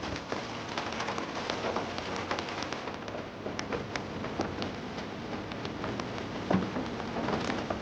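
Heavy hail and rain in the Mussoorie mountains during a severe hailstorm: dense, steady patter of drops and ice pellets striking surfaces, with scattered sharper individual impacts, constant and moderately loud throughout, no voices.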